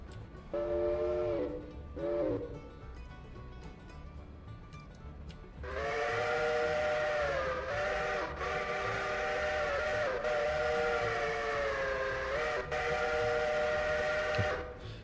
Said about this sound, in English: I was not expecting to have all of these whistles